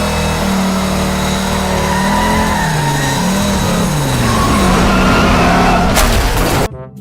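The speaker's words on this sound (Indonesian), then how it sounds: "Widih, ada mobil McQueen." A toy McQueen race car's engine sound revs and whines with rising and falling pitch, loud and steady, alone for about six seconds before stopping abruptly.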